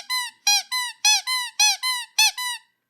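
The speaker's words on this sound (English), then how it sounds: "you squeeze him and he has a functional squeeze toy" A custom Toy Story Wheezy penguin toy's squeaker squeezed eight times in steady rhythm, each a bright, close, wheezy squeak, with no talking.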